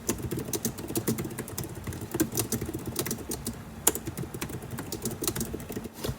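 Notes typed at a computer keyboard, rapid uneven bursts of close key clicks with brief pauses and one louder tap.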